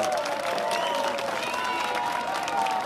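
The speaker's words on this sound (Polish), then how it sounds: "Brawa, brawa!" A crowd at a two-on-two combat tournament applauds after a fight ends, steady clapping mixed with cheering voices and someone talking over it.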